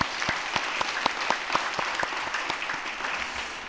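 A church congregation applauding during a Sunday afternoon service, a crisp run of scattered claps that blend into even clapping, moderately loud and steady throughout.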